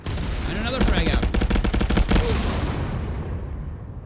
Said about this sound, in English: Frag out. And another frag out.